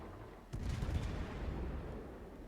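Guns of the Des Moines cruiser firing in World of Warships, a sudden muffled boom followed by a low rumbling roll that lingers faintly in the background.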